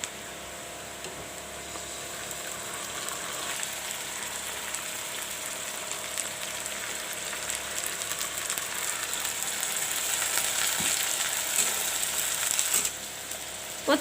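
Masala sizzles in a frying pan for egg curry, a soft, steady hiss with faint ticking and stirring noises that grows slightly louder toward the end.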